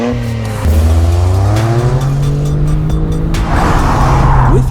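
A 2026 Toyota GR Corolla automatic launches hard from a standstill using launch control, engine revving up through rising tones with a brief gear change and a short tire squeal, loud and close.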